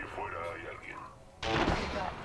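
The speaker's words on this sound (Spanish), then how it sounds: "Están los tiros aquí enfrente" In the video game Apex Legends, a voice talks briefly, then a burst of heavy gunfire erupts nearby, dense and loud, continuing to the end.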